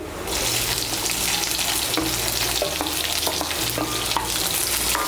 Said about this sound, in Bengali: পেঁয়াজ কুচিটাকে মিশিয়ে নেব। মিশিয়ে নিয়ে লাল করে ভেজে নেব।